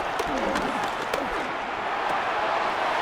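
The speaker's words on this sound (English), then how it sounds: "The crowd getting into it as we come up on a big 3rd down." Simulated stadium crowd in a Madden 26 NFL game, Lions versus Chiefs, building ahead of a big third down: a steady, dense roar of cheering and applause that holds level throughout, with commentary-like voices mixed in.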